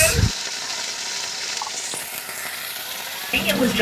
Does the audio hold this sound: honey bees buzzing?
no